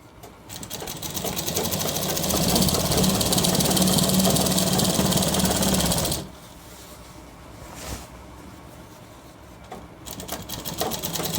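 A sewing machine runs loud and fast while stitching a shirt, a dense mechanical whirr that stops about halfway through, leaving a quiet room with faint handling sounds before it starts up again.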